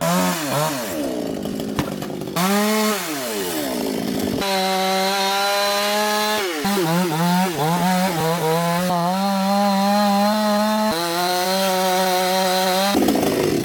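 A Tomitsu chainsaw runs loud and steady, its engine revving up and down as it bites into a bodhi tree, with no voices over it.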